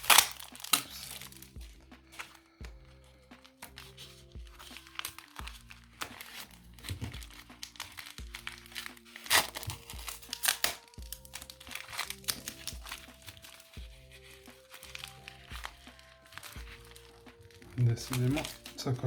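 A paper envelope crinkles and rustles in short bursts as it is worked open by hand, the dry crackles coming and going over steady background music.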